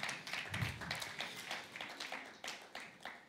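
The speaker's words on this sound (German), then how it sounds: "Komm bitte schnell auf die Bühne. Applaus für Raffi." Church audience applauding as a volunteer is called onto the stage, a steady wash of clapping at moderate level, fairly close, continuing throughout.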